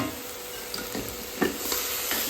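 Ridge gourd pieces in a pan with a little oil and ghee are stirred and mixed, giving a soft continuous sizzle with a few scraping strokes, close and unaccompanied by speech.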